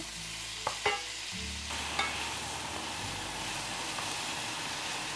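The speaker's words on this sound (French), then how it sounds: "Donc là, je suis sur un feu vif. On va faire bien saisir la viande." Meat searing in a pan over high heat with garlic, a steady sizzle broken by a few sharp clicks and scrapes of stirring near the start, then continuing evenly and fairly quietly with no talk.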